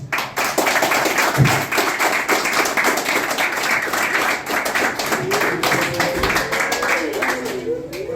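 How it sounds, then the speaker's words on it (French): Sustained, loud applause fills the hall at a philosophers' celebration, a dense wash of clapping running throughout, with voices and a faint tonal murmur rising beneath it near the end. "Applaudissez, messieurs, applaudissez."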